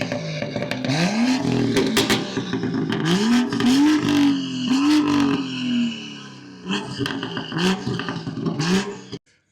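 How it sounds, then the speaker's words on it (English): A 2018 BMW M2 F87 fitted with a Fab Speed catted downpipe revs hard in several rising pulls, loud and close, with brief pauses and crackles between throttle blips before cutting off. "this car has a Fab Speed catted downpipe, which is super fucking loud"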